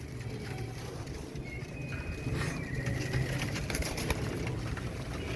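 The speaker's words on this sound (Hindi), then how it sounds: "इमरान भाई के घर के कबूतर" Soft cooing of domestic pigeons rises faintly out of a noisy outdoor background hum, with a few scattered thumps.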